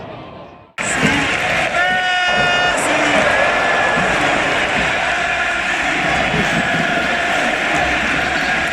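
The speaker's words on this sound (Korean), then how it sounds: "갑자기 관중들이 메시를 외친다." A big stadium crowd at Camp Nou, during an FC Barcelona match, roars and chants Messi's name in a loud, steady wash of voices that continues throughout.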